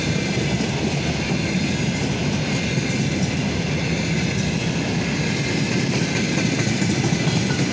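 A Russian Railways train hauled by a VL80 electric locomotive rumbles past close by, a steady broadband roar with rail clatter that holds loud and constant throughout, no voices.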